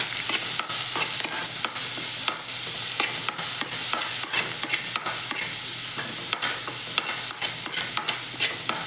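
Gooseberries frying in oil with curry leaves and chilli in a pan, a steady loud sizzle running throughout with repeated sharp clacks and scrapes of a spoon stirring, close up and without speech.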